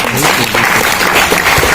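Audience applause at a Hindi poetry gathering, a dense continuous burst of many hands clapping, loud and close, filling the whole moment without any speech.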